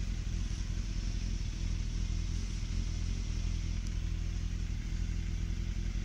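A motorcycle engine runs steadily on its first ride after an accident, a constant low rumble with little change in pitch, close and continuous with no speech.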